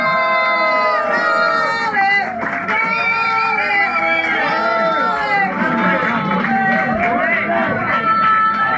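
A concert audience at a Madrid show cheers loudly, the roar of clapping and whooping crowd voices held steady and dense from start to finish.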